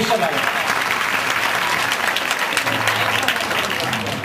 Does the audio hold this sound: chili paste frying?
no